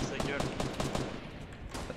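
Rapid automatic gunfire in the video game Fortnite during a squad battle royale match, bursts of repeated shots rattling continuously at moderate volume.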